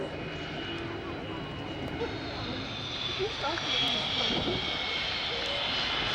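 A steady, broad roar of jet aircraft engines on a runway at a distance, holding at a fairly constant level and swelling slightly toward the end.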